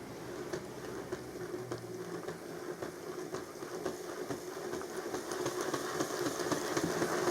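A Hornby model locomotive's wheels spin on a rolling road, giving a steady mechanical motor whir with a faint ticking that grows slightly louder toward the end.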